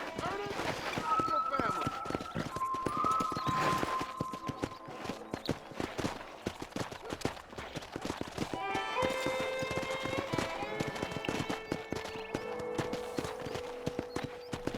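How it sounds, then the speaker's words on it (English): Horse hooves clip-clop steadily while riding in the Red Dead Redemption video game, with a whinny and game music, under ongoing character dialogue. "let's see if you can still ride a horse"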